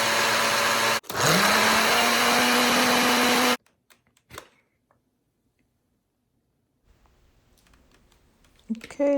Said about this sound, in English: now I'm going to put this in a blender to make a thick consistency